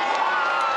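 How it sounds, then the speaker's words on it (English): A fight crowd in a film cheers wildly in a brief, loud, dense burst of massed voices. "the crowd goes wild"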